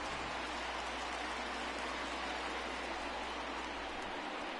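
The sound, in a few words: night rain in video game MLB The Show 20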